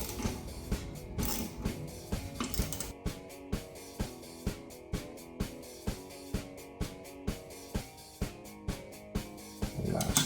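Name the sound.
torque wrench tightening pump seal bolts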